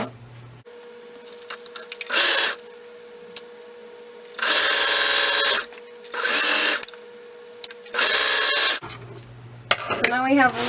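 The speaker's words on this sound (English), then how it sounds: "So now I'm going to stitch from this green clip all the way up to this purple clip" A sewing machine stitches a seam up the leg of a pair of tights in four distinct bursts, each one to two seconds long, with quiet pauses between them. A steady hum runs underneath throughout.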